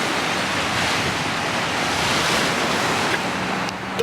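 Pacific Ocean surf at Pismo Beach rolls in as a steady, loud wash of breaking waves mixed with wind buffeting the microphone, continuous throughout with no voices.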